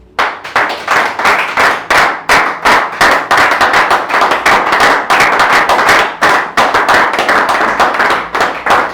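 A church congregation at an Easter service claps in a steady, rhythmic beat, loud and close, continuing without pause for the whole stretch with no voices over it.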